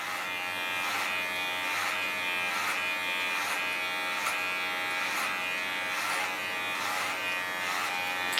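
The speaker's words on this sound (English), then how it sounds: "the underlines I start in doing with a clipper." An electric hair clipper cuts short hair on a client's head at a salon, giving a steady, close, continuous buzz with slight rhythmic swells as the blade moves through the hair, with no talk over it.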